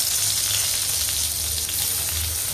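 Eggplant slices fry in a pan of oil with turmeric, salt and sugar, giving a steady, dense sizzle that stays close and even for the whole stretch, with no talk over it.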